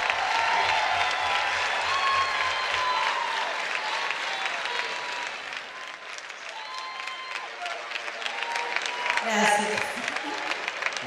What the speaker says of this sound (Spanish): Aplauso fuerte para Sofía Viola.